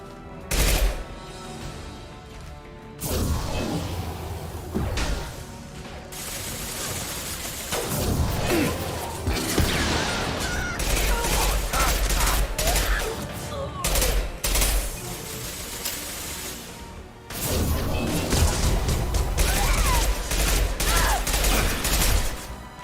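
Sniper fire and bursts of gunfire crackle through a Mass Effect firefight on Omega, with repeated loud shots, whooshes and clattering mechanisms over a busy background, and voices speaking at times.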